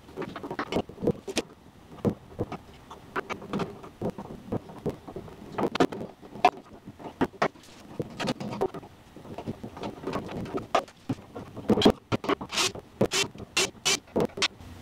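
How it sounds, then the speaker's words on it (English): Metal clicks and scrapes come from an open-end wrench working loose bolts on a 1960 MG MGA 1600 Roadster, in irregular close ratcheting bursts that grow busier toward the end. "I'm going to have to use an open-end wrench to get the other four out."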